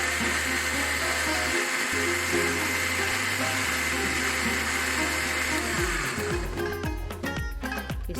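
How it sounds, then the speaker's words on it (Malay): A kitchen blender whirs steadily as it purées ginger, garlic, bird's eye chilies and a little water, the motor droning loud and close without a break before slowing and clattering to a stop near the end. "kemudian kita buat air sikit, dan kita blender lah semua bahan-bahan ni"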